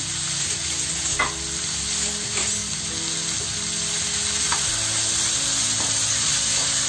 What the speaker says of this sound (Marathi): आणि हे 2 आपण कांदे घेतले ना चिरून ते घालते, आणि टोमॅटो सुद्धा।